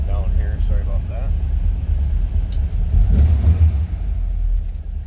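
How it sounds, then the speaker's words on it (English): A 1966 Volkswagen Beetle's engine runs close by with a steady low rumble that swells briefly midway, while someone talks over it. "this is a good sounding VW Beetle"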